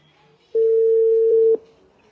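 A phone call rings out unanswered: one steady ringback tone lasts about a second, clear and close, against a quiet background.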